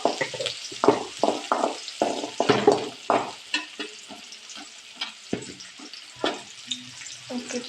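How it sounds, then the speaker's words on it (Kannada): Chopped onion and tomato frying in a pan, with spoon stirs and scrapes coming in uneven bursts over a soft background sizzle, heard close up. "ಓಕೆ, ಫ್ರೈ ಆಗ್ತೈತಿ."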